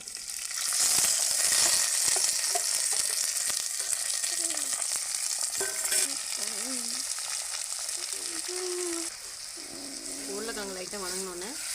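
Parboiled potatoes fry in oil with mustard seeds and curry leaves, giving a steady, bright sizzle with occasional stirring scrapes. Someone speaks over the frying for much of the time.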